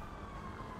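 A police siren wails faintly and steadily in a Grand Theft Auto V online session, heard from a distance amid low engine rumble.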